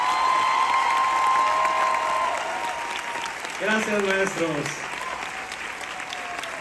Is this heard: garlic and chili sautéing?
no